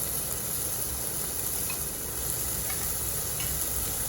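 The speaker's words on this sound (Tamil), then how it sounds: "ஒரு பெரிய தக்காளி பழத்தை இதோடு சேர்த்து வதக்கிட்டு" Steady, loud sizzling of tomatoes sautéing in a hot pan, with faint stirring clicks now and then and no talking.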